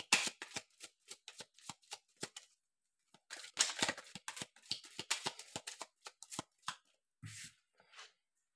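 Oracle cards are shuffled by hand for a six-card draw, a close, quiet run of rapid crisp riffling clicks in two bursts separated by a short pause, with no speech over it.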